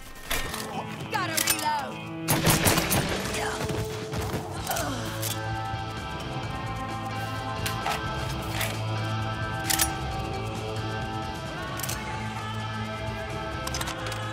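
Gunfire in the video game Mafia III: sharp shots crack out in a short burst early on, then scattered single reports follow over a steady background of game sound and music.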